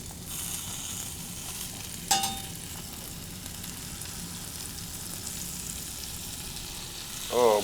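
Croque madame sandwiches with Gruyere or Emmentaler cheese fry in a Le Creuset pan, giving a steady, loud sizzle throughout, with one brief clatter near the start and a short scrape at the end.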